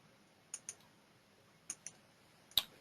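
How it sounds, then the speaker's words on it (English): Sparse keystrokes on a computer keyboard while typing a town name into a French-language learning game, a few isolated clicks in small pairs with long quiet gaps, faint and close. "we have to actually enter the name from the keyboard"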